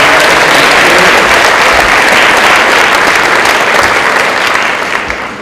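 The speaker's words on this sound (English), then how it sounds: "can we also give a round of applause to our 7th and 8th graders?" A school concert audience claps loudly and continuously for 7th and 8th grade performers, a dense sustained wave of applause that fades slightly at the end.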